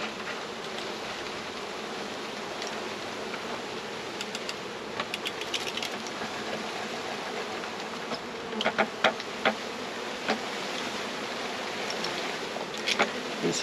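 A dense, steady buzzing of many honeybees being poured from a package into a hive, with occasional soft thuds and taps as they tumble in.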